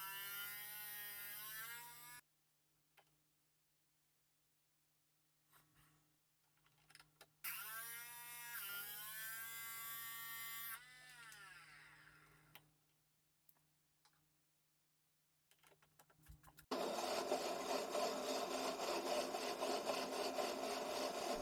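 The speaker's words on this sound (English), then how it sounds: "Here I'm regrinding the tips of the 4 flutes using my tiny tool grinder." A tiny tool grinder regrinding the tips of a four-flute drill bit whines with shifting pitch in short bursts separated by silences, then gives way to a harsh, steady grinding noise.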